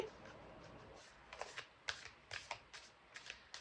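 Oracle Angel cards shuffled by hand, with a faint room hiss at first, then a quick series of soft crisp riffling bursts in the second half, close but quiet.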